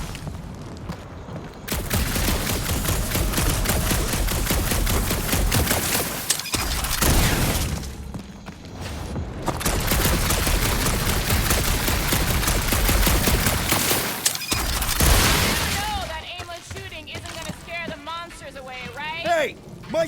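Gunfire and explosive bursts fill a Marvel's Guardians of the Galaxy video game battle, loud and sustained in heavy volleys with brief lulls, ending with quieter scattered effects.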